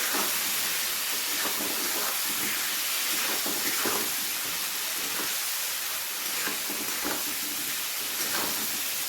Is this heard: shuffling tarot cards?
no